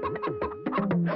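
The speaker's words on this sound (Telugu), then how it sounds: "కోళ్ళు" Chickens cluck in a quick run of short, close, choppy calls lasting about a second.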